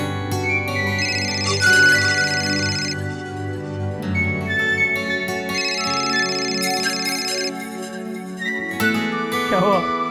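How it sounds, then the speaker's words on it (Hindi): A phone ringtone in a Hindi TV drama household, a loud melodic electronic tune repeating in phrases, with voices briefly heard near the end. "अरे कब से फोन बज रहा है, फोन क्यों नहीं उठा रही हो?"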